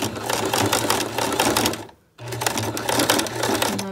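A sewing machine stitches a zipper into a patio cushion, rattling rapidly and close by in two bursts split by a brief pause.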